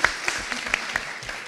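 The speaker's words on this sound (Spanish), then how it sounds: "Fuerte el aplauso para ella" A small gathering applauds a girl turning five at a youth community event, a brief patter of scattered claps from a few hands, light and close, fading quickly.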